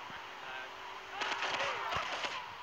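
Police gunfire aimed at the player in GTA 3: a quick cluster of sharp cracking shots, faint and somewhat distant, over a low ambient hum.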